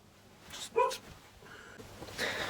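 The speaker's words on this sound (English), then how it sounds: "I've got a dog" A pet dog barks indoors, one sharp yip followed by a couple of softer whimpering barks, close by but not very loud, with no talking.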